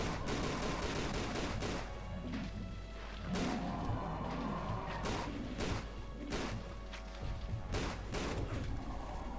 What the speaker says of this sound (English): Not really sure if I'm shooting really on the right spot or not.